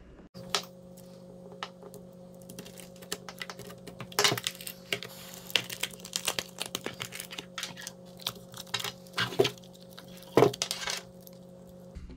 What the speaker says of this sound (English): So I'm gonna go ahead and cut the battery open.